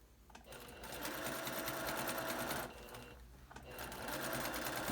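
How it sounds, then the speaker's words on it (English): A sewing machine runs in fast, steady bursts while stitching fabric along a face-mask seam, pausing briefly before resuming its rapid mechanical whir. "I'm going to stitch 1/8 of an inch away from the seam line, just all the way across"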